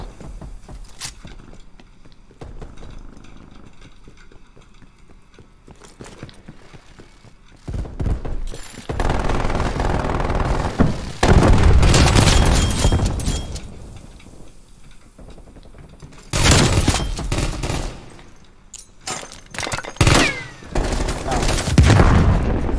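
Turret machine gun in a video game fires in long rapid loud bursts that come in and out with short pauses, with game noise and talk around the firing.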